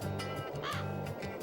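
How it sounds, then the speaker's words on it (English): Crow caws in the game Wild Arms 3, a faint rhythmic series of low repeated calls with a brief higher cry in the middle, under a game music or ambience bed. "That was a solid crow."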